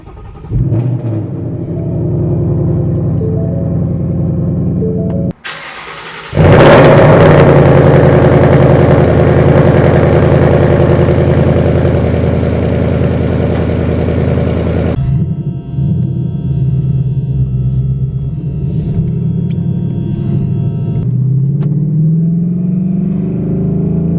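A Ford Mustang GT engine rumbles at idle, then roars loudly with a broad rush for several seconds before settling back to a lower, steady drone as the car drives.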